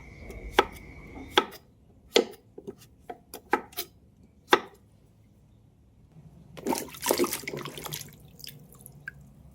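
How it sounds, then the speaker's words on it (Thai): A pumpkin is chopped into pieces with a knife on a board for a Thai red curry, giving a string of sharp, separate chops with uneven gaps, followed by a stretch of rushing, splashing water. "วันนี้จะใส่ฟักทองด้วย หั่นเป็นชิ้นๆพอดีค่ะ"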